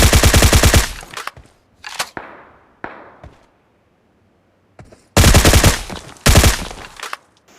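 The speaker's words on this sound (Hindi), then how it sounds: "और ये प्री फायर देखो।" Automatic gunfire in PUBG Mobile fires in loud, rapid bursts, with a long sustained volley, scattered single shots and a near-silent gap before two more intense bursts.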